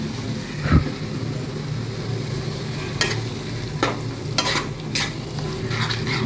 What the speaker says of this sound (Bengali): এটা একটু কষাতে লাগে, ভালো করে মজাতে লাগে